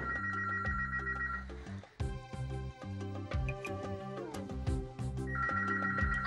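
A doorbell with an electronic, telephone-like trill rings in a Turkish sitcom home, one burst at the start and another at the end, over a steady music bed with no talk.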